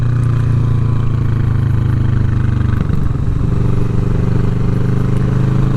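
A steady, loud motorcycle engine drones at cruising speed with an Atlas throttle lock holding the throttle. The tone stays even apart from a slight shift in the middle, and no one speaks.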